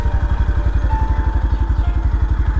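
Motorcycle engine idling close by as the bike is parked, a steady low pulsing chug with a mechanical rattle, heard alone.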